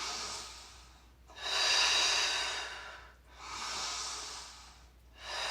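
Slow, deep breaths during a vinyasa yoga practice: two long, audible inhale-exhale cycles. They are close and soft, with brief pauses between them and no talking.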